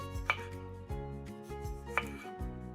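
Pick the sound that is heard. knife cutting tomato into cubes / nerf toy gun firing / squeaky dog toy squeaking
knife cutting tomato into cubes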